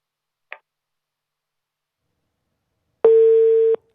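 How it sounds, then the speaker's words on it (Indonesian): A telephone line goes dead after a dropped call during a live TV news phone link: a faint click, then near three seconds of silence, then a steady busy tone sounds alone for nearly a second. "Sayang sekali kita terputus sambungan telepon bersama dengan jurnalis Kompas TV, Kika Madona"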